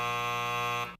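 A quiz game buzzer blares a loud, steady electronic tone for about a second, then cuts off abruptly.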